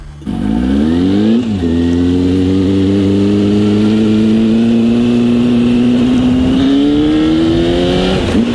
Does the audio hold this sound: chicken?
no